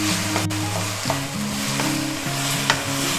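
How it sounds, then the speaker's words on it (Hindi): Minced meat with two chopped onions and a spoonful of tomato paste sizzles loudly and steadily in a pan for mongray keema, with occasional stirring scrapes and background music underneath. "भूनना है इसे 5 मिनट तक हम बस भूनेंगे"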